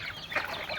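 Domestic chickens kept in a cage cluck softly in a brief, faint burst over steady background noise, with no talk.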